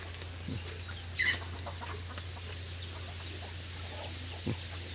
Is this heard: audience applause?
no